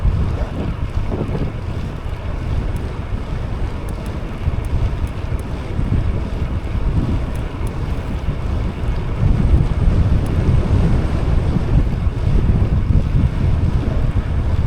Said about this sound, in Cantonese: 哇！ 超大風。